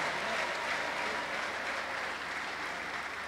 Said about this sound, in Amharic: ለጌታ እልልታና ጭብጨባ አምጡ